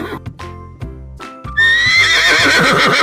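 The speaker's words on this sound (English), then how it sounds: "Horse." A horse gives a loud, drawn-out neigh after a few short snorts and clip-clop hoof sounds, the whinny rising and shaking close up with no talking.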